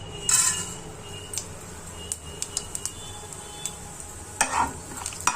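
Mustard seeds, cumin, urad dal and chana dal crackle as they hit hot oil for tempering, with a low steady sizzle broken by sharp pops and clicks scattered across the pan and a louder burst near the end.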